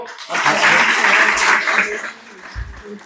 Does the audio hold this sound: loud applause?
yes